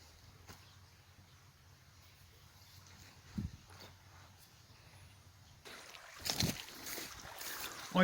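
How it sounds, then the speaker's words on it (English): A shallow creek flows with a quiet, steady rush of water, faint and continuous, while a few soft knocks and rustles from walking sound nearby toward the end. "Can you hear the river?"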